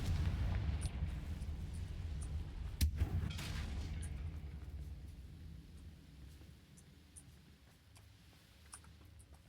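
A Confringo fire-blast spell explodes in Hogwarts Legacy, one sharp boom with a rumbling low-end tail near the start, then fading rumble and faint ambient game sounds with no talk.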